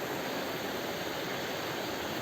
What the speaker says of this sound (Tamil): பாருங்கள், மேலே தான் அருவி.